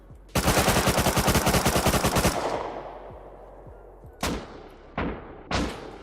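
Rust gunfire: a loud, rapid automatic burst of about twenty close shots lasting two seconds, then a few separate single or short bursts spaced out afterward.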